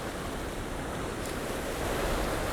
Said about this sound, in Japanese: しかしちょっと予報より波が弱いね。